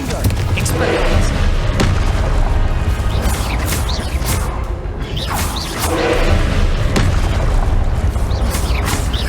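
Repeated Confringo blasting-spell explosions in Hogwarts Legacy: loud, booming bursts and whooshes recurring every couple of seconds over a dense, continuous rumble of game combat.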